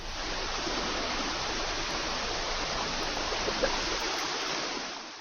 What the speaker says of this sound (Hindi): पूरा भरपूरी पानी चल रहा है